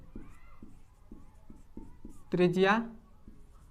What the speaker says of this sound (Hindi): जैसा मैं लिख रहा हूँ